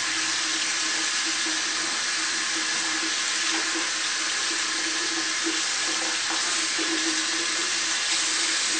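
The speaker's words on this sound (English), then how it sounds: "turn on your hot water, cold water, it doesn't matter, and just rinse it out real good" Tap water runs in a continuous steady stream into a sink while an atomizer base is rinsed under it, a constant rushing splash for the whole stretch with no voices.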